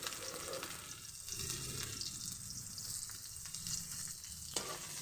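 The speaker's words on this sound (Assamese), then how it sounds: "এতিয়া মই তাত পিঁয়াজ দি দিছোঁ" Onion frying in a pan while cooking kalmou (water spinach) greens, a steady close sizzle that stays even for several seconds, with no talking.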